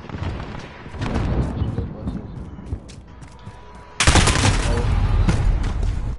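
Sniper rifle fire in the video game Modern Warfare sounds out in booming gunshot bursts, one early and a louder, sustained blast later. Players talk over the gunfire throughout.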